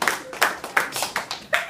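Sparse, uneven clapping comes from a small audience at a coastal costume contest, landing in about six loose bursts that rise and fade instead of building into steady applause.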